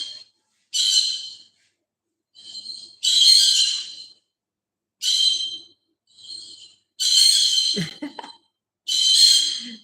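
A pet bird repeats bright, whistled calls in short bursts separated by silences, with a brief low thump or rustle partway through.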